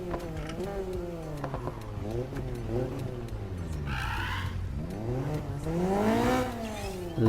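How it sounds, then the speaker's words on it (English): Exhaust overrun pops and bangs from a car in the Need for Speed Heat racing game, revving engine tones rising and falling with crackling bursts, loud and close, with a voice talking over part of it. "That little overrun, pop and bangs from the exhaust."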